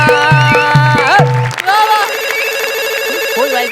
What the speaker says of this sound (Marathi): फोन वाजला